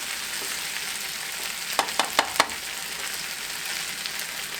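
Potatoes and Spam fry in a pan with a constant close crackling sizzle, broken midway by four quick sharp clicks, likely from stirring or a utensil, and no voices.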